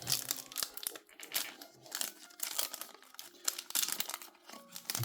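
Crinkly plastic foil of a Yu-Gi-Oh booster pack wrapper being torn open by hand, a close, busy run of crackling rips and crumples lasting several seconds, with no talking.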